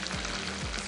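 Chopped onion and tomato frying in a cooking pot for badami daal: a brief, continuous, close sizzle with a faint stirring scrape.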